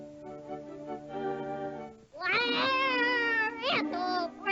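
A cat gives a long, loud, drawn-out meow, then a rising caterwauling wail with a short, sharp cry near the end, close to the microphone.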